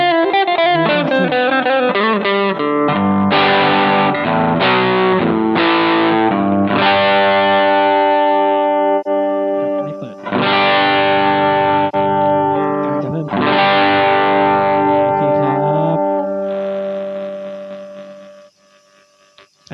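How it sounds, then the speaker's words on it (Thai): Electric guitar played through a Mooer GE100 multi-effects unit set to an overdriven distortion tone: loud, saturated strummed chords ringing out in bursts, each sustained and decaying, with a last long chord fading away. "สามารถเล่นคอร์ดแล้วก็มีเสียงแตกปนมาด้วยนะครับ"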